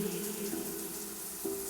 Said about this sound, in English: the shower tumbles hot and scalding across her shoulders